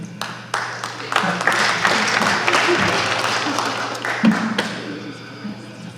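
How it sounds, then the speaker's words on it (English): Audience applause at a town board candidates debate in Smithtown, a burst of hand clapping with scattered taps over a low steady hum, rising after a second and fading toward the end, with speech mixed in. "Students don't clap, but you guys do."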